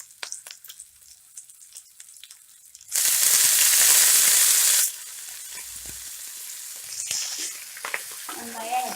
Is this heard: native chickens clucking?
no